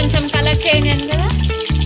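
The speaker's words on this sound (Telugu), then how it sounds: "ఇలా వాష్ చేసుకున్న పీసెస్ని నూనెలో వేసుకొని ఫ్రై చేసుకోవాలి" Washed eel fish pieces frying in hot oil, a loud close sizzle with intermittent stirring or clattering and a steady crackle throughout.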